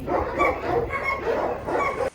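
A dog barks at an animal shelter in a steady run of yips and bow-wows, fairly close and loud, continuing for about two seconds before stopping abruptly.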